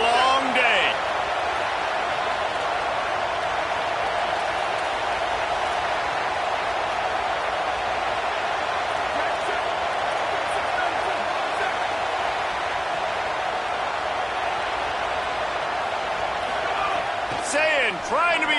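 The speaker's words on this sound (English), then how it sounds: "This crowd, full throat, spreading the eardrums and letting them know it's going to be a long day" A football stadium crowd roars in full voice, a steady, loud wall of noise that holds unbroken for well over fifteen seconds, with a few faint sharp accents near the start and end.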